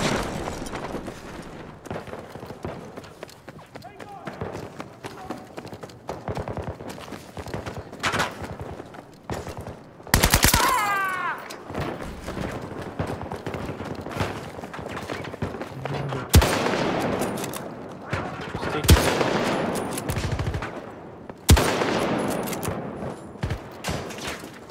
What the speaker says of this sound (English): I'm already shooting.